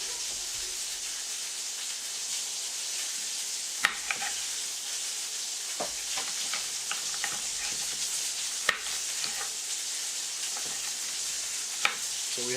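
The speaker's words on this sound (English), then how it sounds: "I know y'all hear them lamb chops over there cooking up" Lamb chops sizzle in a pan, a steady close crackling hiss broken by a few sharp pops and clinks, loud and continuous with no talking.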